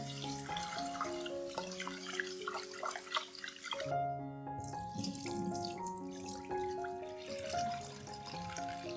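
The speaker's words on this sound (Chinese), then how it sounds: "首先将米倒入锅里，用水冲洗干净。" Rice being rinsed in a pot under a running kitchen tap: a steady, close stream of splashing water that runs throughout, with background music underneath.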